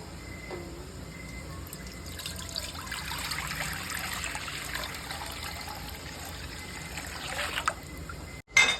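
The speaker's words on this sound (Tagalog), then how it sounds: "lalagyan natin ng malinis na tubig" Clean water trickles and splashes into a cooking pot for a ginger, onion and garlic broth, a continuous thin pour running several seconds before a short clatter at the end.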